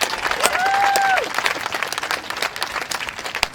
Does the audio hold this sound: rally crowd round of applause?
yes